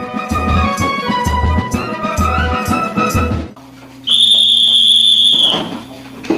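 A single loud, sustained whistle blast lasting about a second and a half signals bedtime at BSF training, following a stretch of rhythmic, tonal background sound.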